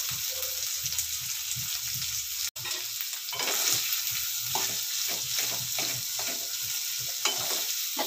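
A fasting-style vegetable filling for masala dosa fries in oil, a dense sizzle under rhythmic stirring strokes that scrape the pan in quick, close, regular beats.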